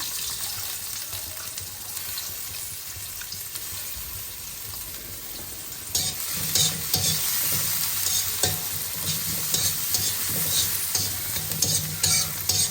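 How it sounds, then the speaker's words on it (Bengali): Onions stirred and frying in oil in a pan for pasta, a steady close hiss of sizzling with scraping stir strokes that grow louder and busier halfway through, no talk. "পেঁয়াজ দিচ্ছি এখন"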